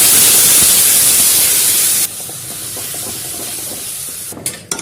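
Puree tips into hot spiced oil with curry leaves and jaggery for shev bhaji, setting off a loud burst of sizzling hiss that abruptly drops to a quieter crackle after about two seconds.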